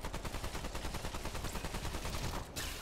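Rapid automatic gunfire from Remnant 2 rattles in a fast, even stream of loud, close shots for over two seconds, then cuts off abruptly near the end.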